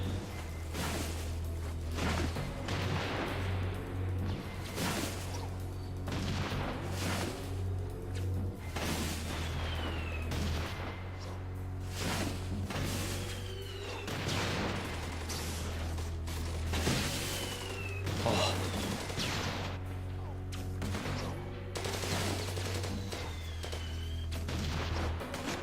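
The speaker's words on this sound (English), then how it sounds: "I'm destroying turrets in an animation that makes me stand still in the middle of intense combat" Turrets being destroyed amid intense combat in the video game inFAMOUS 2, a long, busy run of rapid gunfire, booms and whooshing blasts over a steady low hum, sustained and loud.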